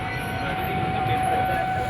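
Hazarduari Express passenger train running near Naihati at night, a steady low rumble with a constant tonal whine, continuous and fairly loud throughout with no voices.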